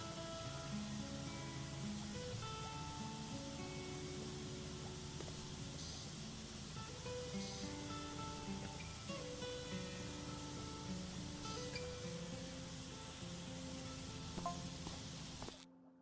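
A pressure washer sprays in the video game Powerwash Simulator, heard as a soft, steady hiss of water running continuously for about fifteen seconds under quiet background music.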